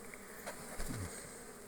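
A soft, close buzzing of many honey bees at a hive hums steadily, with a single bee droning past in the middle.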